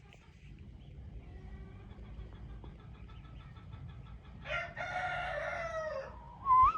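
Chickens cluck softly through a quiet stretch on a Canadian family farm in spring, then a rooster crows loudly near the end, followed by a short high call.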